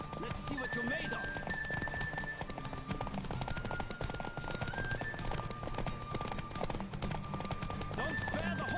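Galloping horse during a race in the video game The Witcher 3: rapid clip-clop hoofbeats run continuously with occasional whinnies and a thin tonal whistle, under a busy game soundscape with voices.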